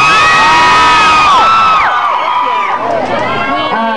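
A concert audience screams and cheers loudly, a dense wall of high shrieks and whoops filling the space and slowly fading over a few seconds.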